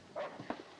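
A violent, agitated dog gives two short, rough barks or growls, close and fairly loud, with no talking around them.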